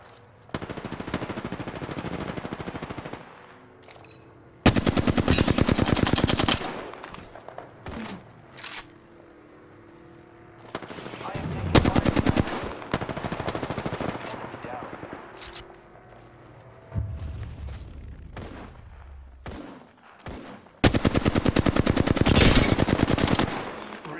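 Bursts of automatic gunfire from the battle royale shooter Apex Legends, several loud rapid volleys separated by quieter stretches, with voices talking between and over the shooting.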